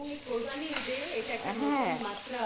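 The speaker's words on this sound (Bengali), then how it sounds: "বাটারের মধ্যে গার্লিক দিয়ে বিফটা ফ্রাই হবে" Beef frying in butter with garlic, giving a steady sizzle beneath a person talking over the pan.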